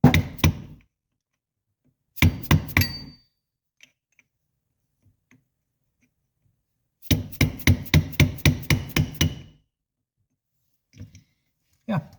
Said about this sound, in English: I'll just finish it off with a chisel and a hammer